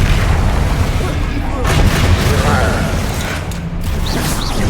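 The Confringo fire spell is cast in the Hogwarts Legacy video game as a loud, dense, sustained burst with crackling, booming texture that fills the whole clip.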